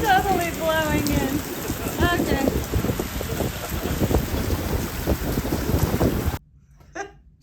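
Strong wind gusting across the open deck of the Carnival Panorama cruise ship, a loud continuous roar and buffeting with some speech mixed in, then dropping off abruptly near the end to near quiet.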